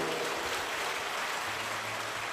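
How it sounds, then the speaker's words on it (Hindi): A large audience at a Shiv Mahapuran Katha religious gathering claps together, producing a dense, steady wash of applause that continues without a break and with no voices heard. "एक बार जोरदार ताली बजाएं।"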